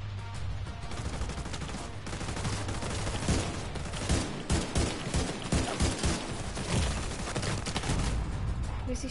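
Enemy gunfire rattles through a firefight in The Division 2, loud overlapping bursts and single shots packed together with no letup, dense and close throughout.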